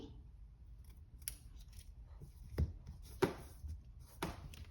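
A toddler peels papery onion skins by hand, giving faint, sparse crinkles and a few sharper crackling snaps spaced apart in a quiet room.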